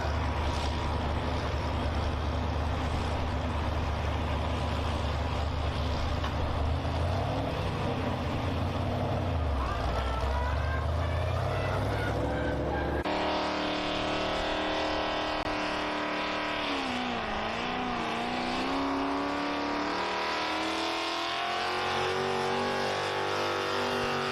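A pulling tractor at a county fair tractor pull in Painesville, Ohio roars loud and sustained, the engine pitch surging and wavering as it runs the track, then shifting to a different strained note partway through.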